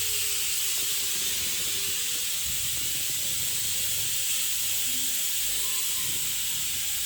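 Steady, loud steam hiss from a pressure cooker during a home Varamahalakshmi festival, a constant broadband rush that runs unbroken through the whole stretch, with faint low household sounds beneath it.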